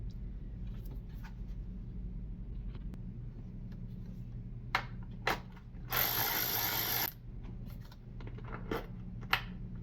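Quick ratchet clicks and a short burst of ratcheting while parts are loosened to remove the plenum on a 2013 Cadillac SRX 3.6L, with scattered metallic taps over a low background rumble.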